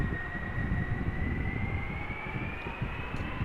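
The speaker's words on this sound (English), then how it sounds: "This is Turkish Airlines flight 1958 Airbus A330-200 destined for Istanbul in Turkey" A 14-year-old Turkish Airlines Airbus A330-200 at Amsterdam, bound for Istanbul, gives a steady jet roar with a thin whine slowly rising in pitch, heard from a distance without anyone talking.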